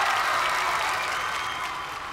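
Sustained studio audience applause on a Family Fortunes game show, steady and full, easing off slightly toward the end.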